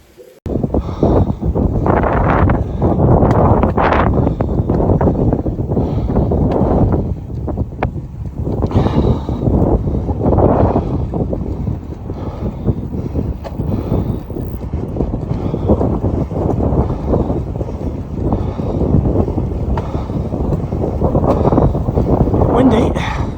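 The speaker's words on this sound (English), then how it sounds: "Windy." Heavy wind buffeting the microphone during a bike ride through countryside, a loud continuous low roar with surging gusts that persists for over twenty seconds.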